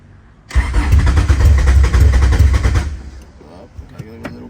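A Honda EG hatchback with an all-motor B-series engine and big injectors cranks and fires, roaring loudly for a few seconds before dropping to a lower, rougher idle.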